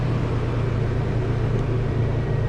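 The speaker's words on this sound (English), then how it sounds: "So I'm going to start up the vehicle now." The engine of a 1998 Toyota Tacoma, running just after an alternator replacement, gives a steady, loud low rumble with an even idle hum and no break.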